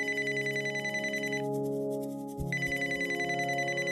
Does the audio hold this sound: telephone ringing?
yes